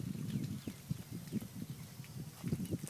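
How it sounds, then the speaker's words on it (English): Dairy cows walking back across a farm, their hooves giving a soft, irregular clopping and shuffling at close range over low ambient noise. "The cow's just coming back off here now."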